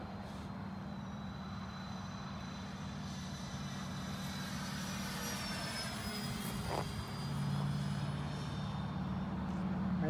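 Freewing AL37 model jet plane in flight, a steady whooshing turbine roar with a high whine that swells slightly as power is opened up, heard from a distance without talk.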